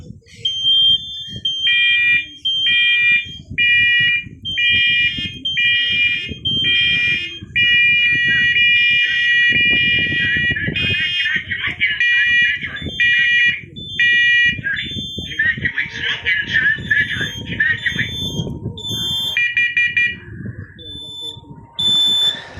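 Several home smoke and fire alarms shriek together in loud, overlapping, rapidly pulsing beeps that persist throughout, with a person talking faintly underneath.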